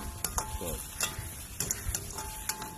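Onions frying in a pan for a Jaffna-style stingray fish curry, with soft sizzling under repeated stirring and scraping taps of a spoon against the pan, close by.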